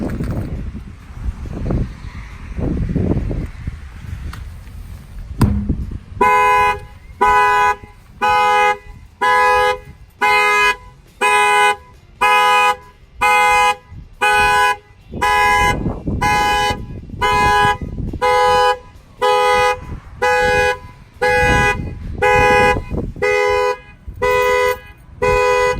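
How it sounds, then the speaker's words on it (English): Factory alarm on a Chevy Camaro, triggered by an added shock sensor, sounding a loud close rhythmic horn toot repeating in regular bursts after a few seconds of low rumble and thumps. "I'm gonna go ahead and bang on the tire and the alarm will fire off."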